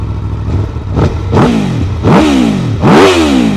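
An Aprilia Tuono V4 Factory motorcycle on its stock exhaust revved hard several times, each blip climbing higher and louder before dropping back, close by with a clattering idle between.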